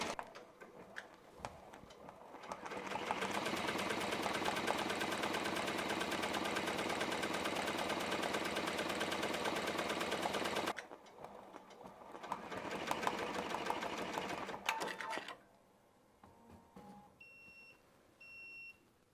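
An embroidery machine stitches a design onto a hat, running in a loud, steady mechanical chatter for several seconds, pausing briefly, then resuming before stopping, followed by a few faint electronic beeps.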